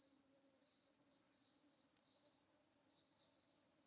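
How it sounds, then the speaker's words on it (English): Steady high-pitched buzzing of small flies living in a tree drones on without a break, faint and continuous, with no voices over it. "There's a bunch of these little fly. They sound like bees. They might be wild bees."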